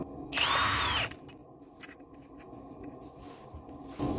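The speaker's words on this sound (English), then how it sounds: "you want to remove this nut. This is a 21mm nut." A power tool spins off a 21mm nut from a front shock absorber on a Trafic, Vivaro or Primastar van: one close, loud burst of under a second, then quiet shop background and a faint clunk.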